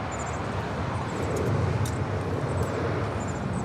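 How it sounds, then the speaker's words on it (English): Aeromexico Boeing 737 MAX 8 in Pride livery arriving at Los Angeles International Airport from Mexico City, a steady broadband jet roar with a low rumble, continuous and fairly loud throughout. "It's the Pride livery with Aeromexico Flight 646 coming in from Mexico City on a MAX 8"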